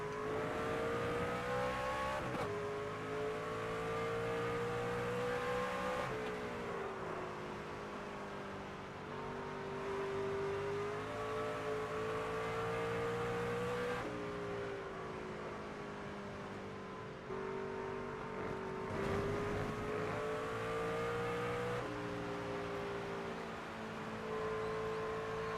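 Race car engines in a NASCAR 25 career-mode race drone loudly and continuously, pitch climbing and dropping with repeated shifts and throttle changes as the pack runs together, with no talking.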